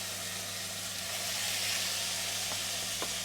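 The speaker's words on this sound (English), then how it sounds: "I'm just gonna give it a light sear." Food sears in a hot pan while cooking a Sri Lankan curry and roti, giving a steady, close, broadband sizzle and hiss with a faint hum underneath and no talking.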